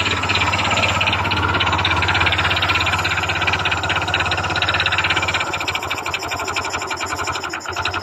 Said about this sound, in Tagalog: nandun pa rin ang ingay ng kanyang makina guys. Makalampag pa rin.